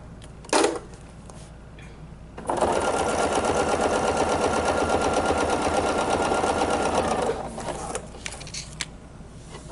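A sewing machine quilts a table runner with ruler work, a short tap first, then a steady rapid stitching run of several seconds that stops, followed by quiet handling sounds.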